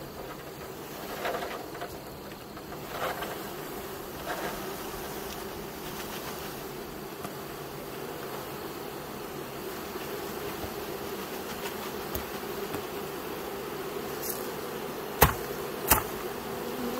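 Honey bees from a package colony being installed in a hive, a low continuous buzzing hum close by, with occasional soft knocks and two sharp clicks near the end, no talking.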